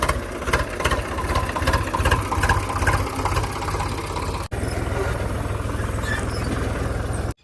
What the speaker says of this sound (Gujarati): ટ્રેક્ટર લઈને વાવણી કરવા ખેડૂત ઉપડ્યા